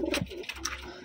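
Pigeons, here a batch of Taiwan birds, give a few soft throaty coos, close and brief, with no talking.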